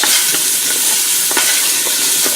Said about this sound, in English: And start stirring that around